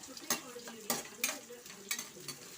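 Onions sauté in a pan for green peas curry, stirred with a spoon in a run of short, even scraping strokes over a soft sizzle.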